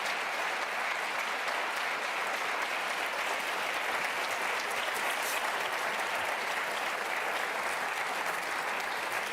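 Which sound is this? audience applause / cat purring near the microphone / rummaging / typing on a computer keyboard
audience applause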